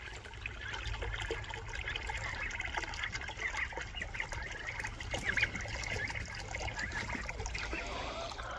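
Water trickles and splashes steadily from a spout for farm animals, soft and continuous, with faint outdoor background noise.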